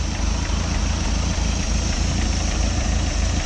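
A Mercruiser boat engine idling after a carburetor rebuild, a steady loud low rumble with an even throbbing beat, running alone without voices.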